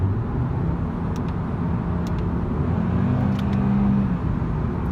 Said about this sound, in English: you're going to hear it in the sound of this car